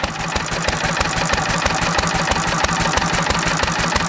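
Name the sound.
small engine running on pure SeaFoam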